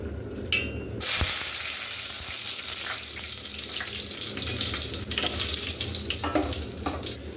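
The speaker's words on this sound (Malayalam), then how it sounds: "എണ്ണ ചൂടായി കഴിഞ്ഞാൽ അതിലേക്ക് നമുക്ക് വറ്റൽമുളക് മുറിച്ചത് ഇട്ട് കൊടുക്കാം" Chopped dried red chillies hit hot coconut oil and burst into a loud, steady sizzle that carries on with light crackles and stirring, with no talking.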